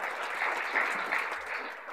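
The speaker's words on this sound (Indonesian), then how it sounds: "Tepuk tangan buat Tuhan Yesus." Steady applause from a congregation during a church sermon, a continuous wash of many hands clapping at moderate distance, fairly soft and even throughout.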